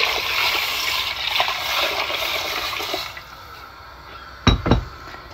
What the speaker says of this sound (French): Ensuite on vient ajouter l'eau.